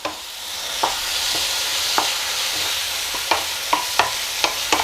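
Chopped tomato frying in a pan for tomato rice gives a steady close sizzle, while a spoon scrapes and taps the pan in irregular strokes, louder toward the end.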